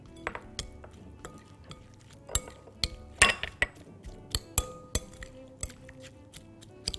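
Onions stirred in a cooking pot, with a spoon knocking and clinking against the metal in irregular sharp taps, moderately close over quiet room noise.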